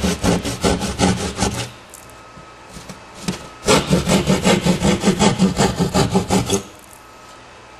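A hand saw cuts down through drywall in quick, rhythmic rasping strokes, close and loud. One run of strokes is followed by a short pause, then a longer, steady run.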